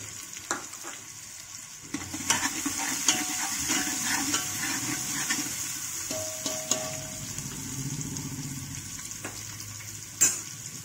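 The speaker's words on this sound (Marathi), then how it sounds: "लसूण अद्रकची पेस्ट थोडीशी लालसर झाली ना, त्याच्यात कांदा टाकून घ्यायचा।" Onions frying in a pan with ginger-garlic paste, a steady close sizzle with scraping stir strokes and occasional clinks of a utensil against the pan, no talking.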